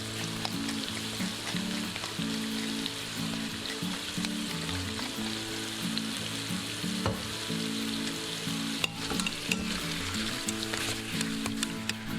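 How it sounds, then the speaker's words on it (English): Chicken meat browning in an Instant Pot seasoned with rosemary, black pepper, marjoram and nutmeg, giving a steady close sizzle and frying crackle with occasional stirring clicks and scrapes. "it took about 4 minutes to brown the meat, stirring occasionally"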